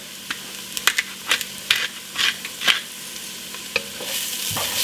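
Leftover turkey sizzling in a pan as oregano, cumin, chili powder and black pepper are stirred in; a run of sharp spatula scrapes and knocks over a steady frying hiss, close up.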